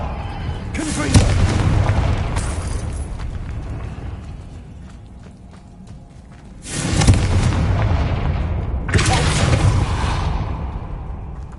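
Confringo blasting spells detonating in the video game Hogwarts Legacy: three loud, close explosive booms, each followed by a rumbling decay that fades before the next blast.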